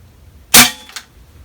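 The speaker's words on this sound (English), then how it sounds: "What pellet you shooting? These are Air Arms Falcon 13." An AGT Vixen air rifle fires an Air Arms Falcon pellet, one sharp close crack followed by a faint, quick second snap of the pellet striking its target, with quiet around it.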